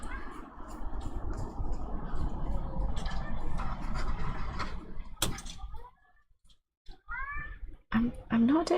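A pet cat meows loudly near a closed door, several drawn-out calls late in the clip after a stretch of background noise and a sharp knock, with brief human speech mixed in.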